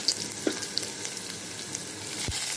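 Garlic sizzling in hot oil with cumin in a pan, a continuous crackling hiss dotted with sharp little pops, close and steady, ending with a brief soft knock.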